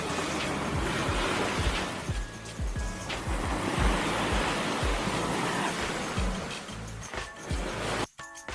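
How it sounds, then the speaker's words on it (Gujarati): Sea waves roll and break steadily on the shore at Madhavpur beach, a loud, continuous wash of surf that fills the whole stretch with only brief dips between breakers. "દરિયાના આવતા જતા મોજા જોઈને"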